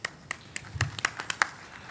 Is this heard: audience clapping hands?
yes